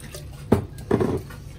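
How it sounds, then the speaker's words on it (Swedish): Water is poured into a hot wok holding sauce, giving two brief splashy sizzles close by, over a low kitchen hum with no one speaking. "Tillsätt lite vatten."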